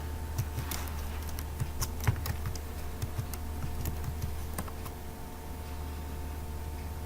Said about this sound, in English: all I have to do is enter my password.